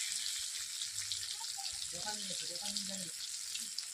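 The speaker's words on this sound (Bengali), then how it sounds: "টমেটো কুচি দিয়ে দিচ্ছি। টমেটোগুলোকে আমি একই সঙ্গে নেড়ে নেবো।" Chopped tomatoes fry in a pan with a steady hiss of sizzling and are stirred, while a voice speaks softly over the cooking.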